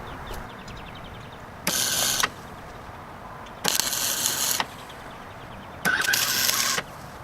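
Tack welding a washer onto a metal piece produces three separate crackling buzzes, each about a second long and evenly spaced, loud against a quiet workshop background.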